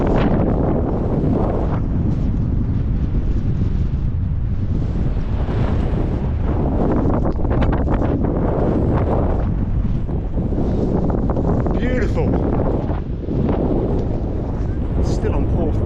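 Strong coastal wind roars and buffets across the microphone at Porth Beach in Cornwall, a loud, continuous rumbling gust noise that swells and eases throughout, with faint surf beneath.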